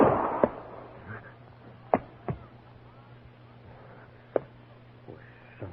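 Gunshot effects in an old Western radio drama ring out as several sharp, short cracks spaced apart over a quiet background, with faint voices between them.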